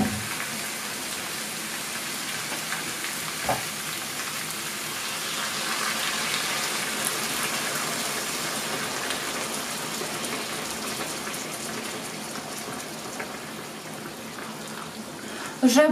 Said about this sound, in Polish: I zalewam w tym momencie wrzącą wodą.